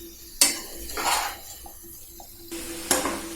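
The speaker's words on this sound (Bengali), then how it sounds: "নাড়িয়ে নিচ্ছি" A spoon scrapes and knocks against a pan while broccoli masala curry is stirred after the lid comes off, a few sharp clinks and soft scraping strokes with quiet gaps between them.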